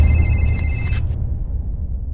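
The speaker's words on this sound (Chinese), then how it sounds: "妈的，谁这时候来电话？" A telephone rings for about a second with a bright electronic trill, then cuts off, leaving a low background rumble.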